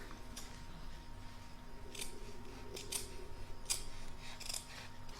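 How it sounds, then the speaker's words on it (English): Scissors snip away excess fabric on an in-the-hoop lined crazy patch bag, giving a few separate, quiet close cuts at a steady pace over a constant low machine hum. "I'm just going to trim up the excess fabric here so that it's not too bulky underneath."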